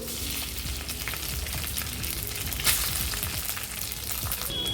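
Curry leaves and cooked rice frying in a pan for jeera rice crackle with a dense, steady sizzle that runs continuously and close, with a few faint scraping stir sounds and no talk.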